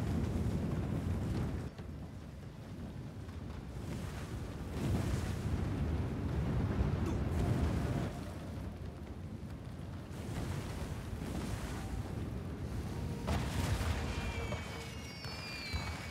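A fireworks factory exploding and burning in the samurai video game Trek to Yomi, a dense continuous roar of fire with repeated deep rumbling blasts swelling and fading, loud and without speech.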